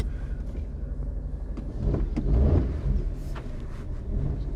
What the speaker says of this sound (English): So it makes lovely little 3-cylinder noises.